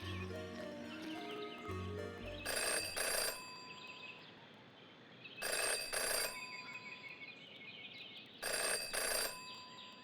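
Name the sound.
telephone ringing in the video game Jenny LeClue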